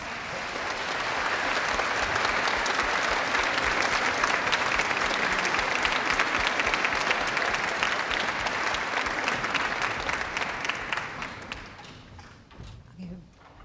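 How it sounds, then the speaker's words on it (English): Dense audience applause in a concert hall for a school spring concert, many hands clapping for over ten seconds before thinning out to a few scattered claps at the end. "if we could give them a round of applause"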